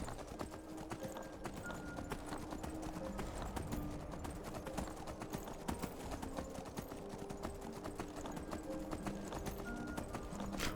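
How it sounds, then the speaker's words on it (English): In the video game Skyrim, a horse's hooves clop in a quick, steady rhythm as it gallops up a mountain, with faint ambient game sounds underneath and no voices. "this horse got a little bit better. Now it's a little bit faster going up the mountain"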